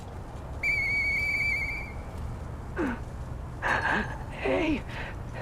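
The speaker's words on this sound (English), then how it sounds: "Hey, that sound. Is that you, Murphy? I know that whistle." A whistle sounds in the video game Lies of P, one sustained clear tone of about a second, then a few shorter rising chirps and whistle notes over a quiet background hum.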